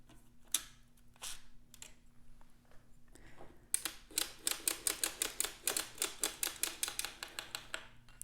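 Quiet mechanical clicking from a knitting machine carriage, sparse at first, then a rapid regular series of sharp clacks nearby.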